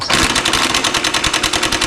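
A Makita DTW190 18V brushed cordless impact wrench with a half-inch drive, trigger pressed lightly, giving a loud, close, rapid and evenly spaced rattle of hammering blows for about two seconds with no talk.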